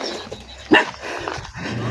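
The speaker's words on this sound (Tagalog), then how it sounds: "Tahol ka ng tahol ah." Max, a dog, gives a single sharp bark close by, followed by quiet rustling and faint background noise.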